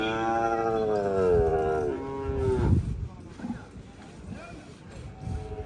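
Kangayam cattle at a Kangayam cattle market give a long, drawn-out moo up close, followed by crowd murmur and market noise.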